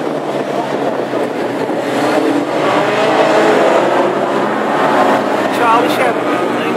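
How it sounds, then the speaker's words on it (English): Classic hot rod cars race around a wet track at Hednesford, their engines a continuous loud roar that swells and fades as they pass, with a commentator talking over it. "flying up very, very fishtaily in that little yellow car"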